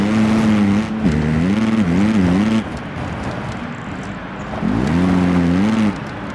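Dirt bike engine in a Monster Energy Supercross video game race at CenturyLink Field, Seattle, buzzing loudly with rising and falling revs in two bursts, easing to a lower drone between them.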